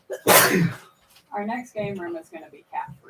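One loud, sharp sneeze bursts out near the microphone, followed at once by several people talking casually in a room.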